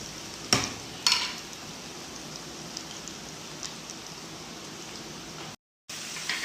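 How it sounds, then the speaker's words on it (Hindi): Potato pieces for masala fries fry in hot oil, a steady soft sizzle and crackle with a couple of sharp clinks from a utensil near the start and a brief cut to silence. "ये देखिए माशाल्लाह से कितने अच्छे ये फ्राई हो रहे हैं"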